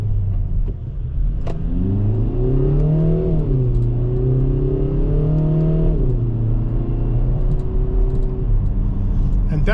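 A 2024 Kia Forte GT engine pulls hard through the gears on an open road, loud and close, its pitch rising and dipping at each shift over a steady rumble, with a voice briefly heard at the start.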